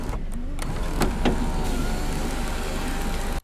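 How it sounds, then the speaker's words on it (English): A steady electric motor whirs continuously inside a 1992 Toyota Celica GT as its power sunroof tilts and slides open, with a few soft clunks early on. "full power tilting and sliding sunroof"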